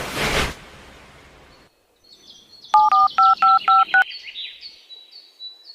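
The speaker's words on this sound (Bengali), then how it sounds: "বিল্লালকে এবার ফোনটা লাগাই" A telephone being dialed, with a burst of noise and then a quick run of about six short touch-tone beeps in steady succession, close and clear, followed by faint electronic tones.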